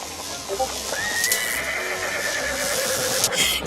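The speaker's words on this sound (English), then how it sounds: "You pathetic horse." A horse whinnies loudly and at length, a rising then wavering neigh close by, with faint shuffling in the background.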